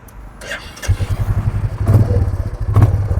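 Royal Enfield Classic 350 motorcycle with a classic 500-style exhaust, its engine idling with a deep, steady thump that swells into a couple of revs, close and loud, with people talking over it.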